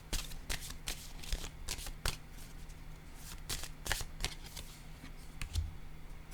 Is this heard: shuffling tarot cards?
yes